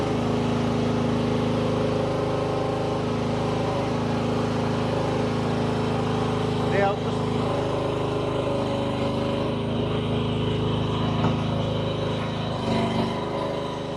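A Rippa RS03 mini excavator drives around, its small engine giving a steady, close, continuous drone that stays even throughout with no one speaking.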